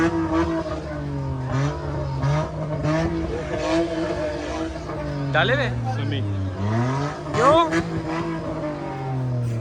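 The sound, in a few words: car engine revving at car meet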